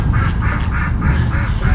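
A drake duck quacks in a quick, regular series of about six loud, close calls over a low background rumble.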